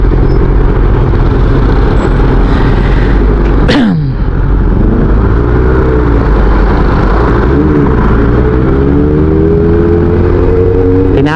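An old Honda CB400 400cc motorcycle engine while riding, loud and close, with a steady throbbing drone, a sharp gear change, then rising and falling revs as it pulls away.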